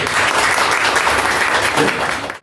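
A hall full of people at an alumni association Christmas and New Year gathering claps loudly and continuously for three honored head teachers, a dense, even wash of applause that cuts off at the very end.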